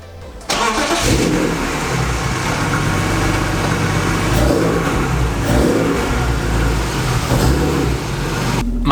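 BMW E36 M3 engine starts and runs loudly on a drive, with a sustained, close exhaust note that rises and falls with throttle for several seconds before cutting off.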